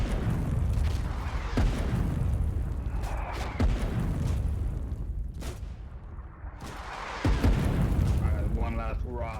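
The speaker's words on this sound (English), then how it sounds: "The Colonial artillery guns had moved forward and had their cannons aimed at our last remaining bunker base." Artillery cannon fire in the war game Foxhole, heavy booming blasts and rumbling impacts repeating over a loud battlefield, with voices talking over the din.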